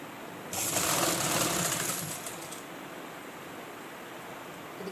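A sewing machine stitches the collar of a government school uniform coat in one short, close burst of rapid whirring lasting about two seconds, then falls quiet with only faint room noise.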